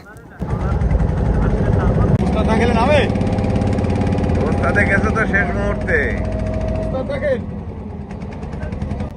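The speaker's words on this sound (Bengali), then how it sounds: "এখানে এসে ট্রলার আটকে গেছে বেশ বিপদে আছি আমরা ট্রলার ছুটানোর চেষ্টা চলছে" Trawler boat engine straining to free the boat stuck in mud in the Sundarbans, a loud, steady low droning hum with voices talking over it throughout.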